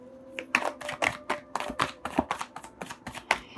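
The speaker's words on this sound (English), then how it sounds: "And while I'm shuffling," An Osho Zen Tarot deck is shuffled by hand in a quick run of crisp riffling card snaps, about a dozen sharp bursts at a brisk, slightly uneven rhythm, close and clear with no talking.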